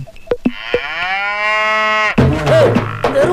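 A water buffalo gives a loud, close, drawn-out bellow lasting over a second, followed by rougher grunting calls and scattered knocks.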